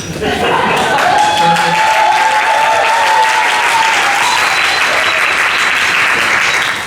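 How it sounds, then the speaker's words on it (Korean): Sustained applause from a congregation at a worship service, steady and loud across the whole stretch, with a faint voice or tone running beneath the clapping. "네, 박수 감사합니다"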